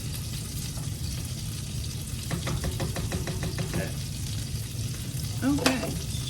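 Pork for a Disney-style peanut pork dish cooks in a pan with a steady, even sizzle throughout, a brief clatter of stirring partway through and a small clink near the end.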